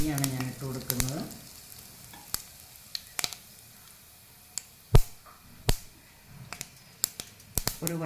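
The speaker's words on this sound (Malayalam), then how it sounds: "കടുക് പൊട്ടി വരുമ്പോഴേക്കും കുറച്ച് ഉലുവ പൊടിയാണ് ഞാൻ ഇട്ട് കൊടുക്കുന്നത്." Mustard seeds popping in hot oil in a pan: a low sizzle under scattered sharp pops and crackles spread irregularly across the clip, close by, with a brief voice at the start.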